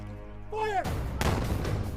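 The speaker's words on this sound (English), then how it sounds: "The earth shook as the artillery pounded the Confederates." Artillery fires on Confederate positions during a Civil War fortress assault: a shouted command gives way to a heavy, loud boom at about 0.8 s, followed by a second blast and sustained rumbling gunfire.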